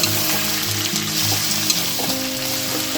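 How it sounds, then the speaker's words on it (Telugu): Boiled potatoes frying in a pan for an Andhra-style potato fry make a loud, continuous sizzle close up, with a tonal musical bed playing underneath. "ఉడికించిన ఆలుని మనం ఇందులో వేసేసుకోవాలి. మనకి ఇట్లా ఉంది, చక్కగా మంచిగా వేయించుకుంటే"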